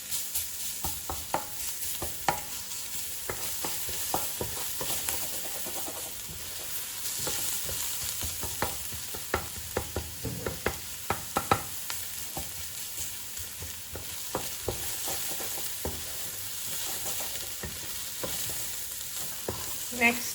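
Chopped chilies and garlic cloves fry in hot oil while being stirred for a Persian khoresh, a steady close sizzle punctuated by frequent scraping taps of the spoon against the pan.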